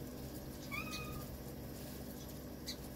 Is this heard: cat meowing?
yes